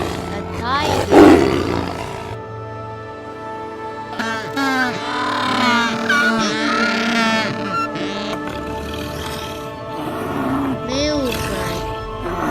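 A tiger gives repeated rumbling roars and growls, loud and close, rising and falling over about twelve seconds against a steady background hum.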